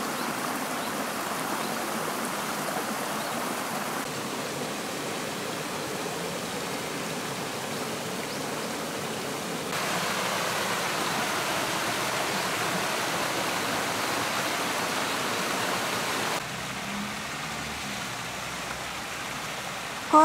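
A narrow mountain valley stream at Makibi Park flows in a steady, soft rushing murmur that continues unbroken, heard alone at low level.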